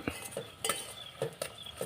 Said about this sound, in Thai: ทอดเราก็ผัดผัดผัดไปนะครับ